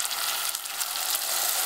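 Water poured into a hot pan of pork stew, producing a continuous loud, bright sizzle and crackle that holds steady throughout.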